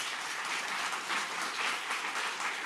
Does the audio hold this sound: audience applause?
yes